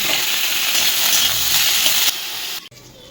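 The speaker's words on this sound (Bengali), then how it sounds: "অন্য কড়াইয়ে অল্প একটু তেল দিয়ে সব সবজিগুলো দিয়ে নুন দিয়ে নেড়ে চেড়ে ঢাকা দিয়ে দেবো" Mixed vegetables fry in a little oil in a wok with salt, giving a bright, steady sizzle that cuts out abruptly near the end, then a faint clatter.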